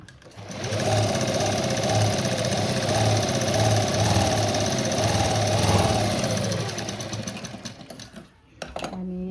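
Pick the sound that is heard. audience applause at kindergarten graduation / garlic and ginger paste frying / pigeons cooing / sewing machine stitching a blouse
sewing machine stitching a blouse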